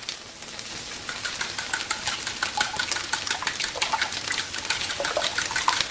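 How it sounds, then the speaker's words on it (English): A whisk beats eggs with water in a bowl, producing rapid, continuous clinking and sloshing strokes, close and fairly loud throughout. "So I'm just going to whisk those up."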